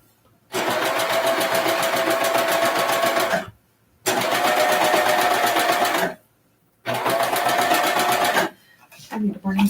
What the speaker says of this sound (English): cover hem machine.